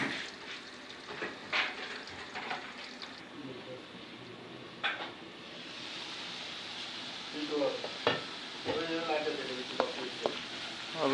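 Onions sizzle and fry in hot cooking oil in a kadhai while being stirred, steady crackling broken by scraping spoon strokes and clinks, fairly close and moderately quiet.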